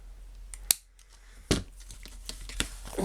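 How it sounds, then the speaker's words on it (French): Scissors snip paper for homemade brads in a scrapbooking craft, with a few sharp isolated cuts and crinkly handling noises close by in a quiet room. "On va prendre nos ciseaux."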